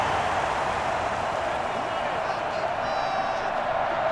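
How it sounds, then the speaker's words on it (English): Stadium crowd at an American football game between the Portland River Hogs and London Black Knights: a steady, loud wash of crowd roar with no clear peaks, under faint broadcast commentary. "And this crowd is roaring."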